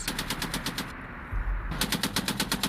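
An M2 .50 caliber machine gun mounted on an M109 self-propelled howitzer fires loud, rapid bursts of evenly spaced heavy reports, a short pause and a low rumble, then another sustained burst.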